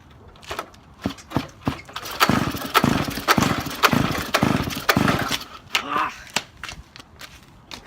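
A small minibike engine is pulled over several times with choppy, uneven bursts, catches briefly and sputters in rough pulses before dying back to separate pull-start strokes.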